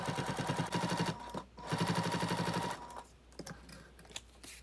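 A sewing machine topstitching fabric for a padded backpack strap, rapid steady needle chatter in two bursts with a short pause between, then quieter handling noises.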